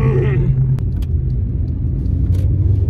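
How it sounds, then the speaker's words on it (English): A Hyundai car accelerating, heard from inside as a loud, steady low engine and road rumble that holds throughout with no voices. "The acceleration on this Hyundai is like, it's crazy."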